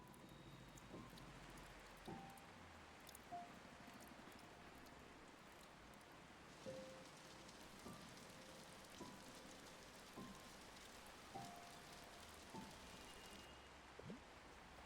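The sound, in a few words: rain falling, from the video game Until Then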